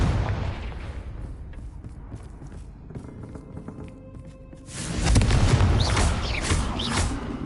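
A Confringo spell explosion in the game Hogwarts Legacy rumbles low, then a louder burst swells up with crackling debris toward the end.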